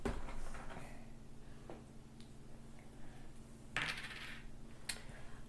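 Gold coins from an Oath of the Brotherhood board game drop with a bright metallic clatter, one burst near the middle and a shorter clink near the end, close and loud over a steady low hum.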